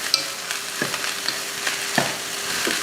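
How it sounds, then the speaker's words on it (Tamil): A spoon stirs egg rice with scattered coriander leaves in a pan over the stove, a soft steady sizzle with a few light scraping strokes at irregular intervals, close and quiet with no voices. "மல்லித்தலை தூவிட்டு கலந்து விட்டுருவோம்"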